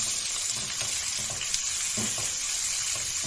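Chopped onion with bay leaves fries in oil as it is stirred, a loud, dense, steady sizzle with occasional soft scrapes, for a prawn curry with potato, pointed gourd and pumpkin.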